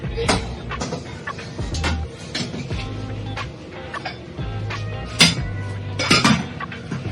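An inner pot goes into a rice cooker with a series of close metallic clanks and clinks, sharp knocks scattered irregularly over several seconds, with no talking.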